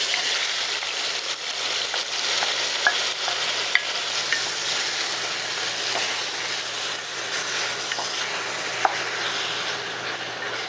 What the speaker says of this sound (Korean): 먼저 김치 먼저 볶아줄 건데요. 들기름을 살짝 두르고, 자, 김치를